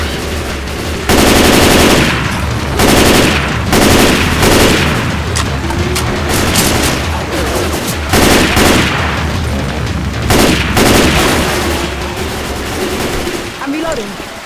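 Rapid automatic gunfire in Left 4 Dead 2 rattles loud and close in long sustained bursts with short gaps, mixed with players talking over the shooting.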